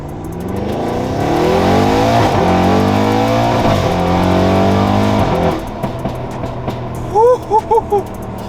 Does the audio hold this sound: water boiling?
no